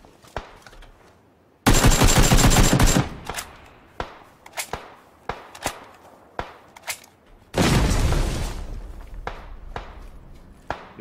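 Gunfire in PUBG: two long, dense bursts of automatic fire alternate with scattered single loud shots and sharp impacts, punchy and close, with no talking heard.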